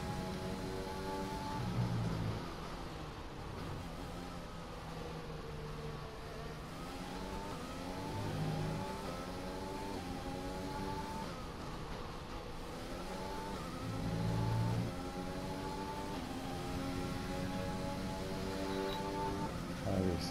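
Race car engine in the F1 2020 video game on a flying lap at a Dutch circuit, a steady high whine climbing through gear after gear in repeated upshift sweeps, close and constant across the stretch.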